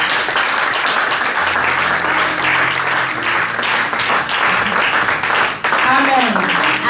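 A church congregation applauds and claps steadily in praise of the Lord, a dense sustained roar of hands under a preacher's voice and music.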